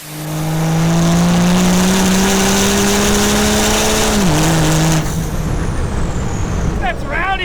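A 1000HP Cummins diesel truck revs hard, a loud, sustained engine roar that holds steady and then drops in pitch before cutting off, followed by faint rattles and background noise.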